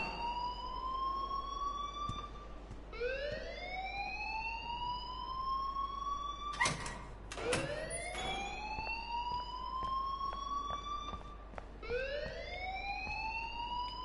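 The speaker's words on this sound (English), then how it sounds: "please turn off that alarm since that's your job" Fire alarm in the Life Is Strange video game wails in repeated rising sweeps, loud and continuous, broken by a few sharp clatters midway.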